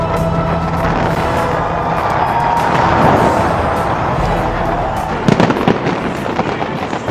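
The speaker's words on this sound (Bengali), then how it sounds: "বিশ্বের সর্বোচ্চ টাওয়ার বুর্জ খলিফার আশেপাশের এলাকা ঘিরে টানা 9 মিনিট ধরে পোড়ানো হয় নজরকাড়া আতশবাজি।" New Year fireworks burst around the Burj Khalifa in Dubai, a dense, continuous roar of crackling and booming explosions, loud and sustained, with sharper individual bangs standing out toward the end.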